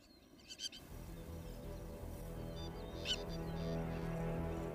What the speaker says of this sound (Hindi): पड़ोसी प्लोवर की चेतावनी भरी आवाज सुनकर